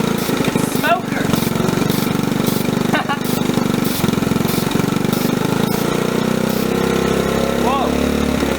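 A rough, loud small engine of a Honda ATC 110, run after sitting 25 years, idles steadily and close by, with a chugging, uneven rumble throughout and no pauses.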